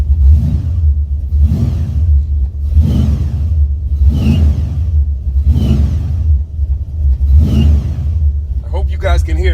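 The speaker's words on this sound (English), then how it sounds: "make a video of the first gear transmission sound where it sounds like a PROCHARGER" 1975 Buick 455 V8 Stage-1 in a Regal with a TH400 three-speed automatic in drive, a loud, close, steady engine rumble with rhythmic whooshing surges every second or so, supercharger-like, and a voice speaking over it.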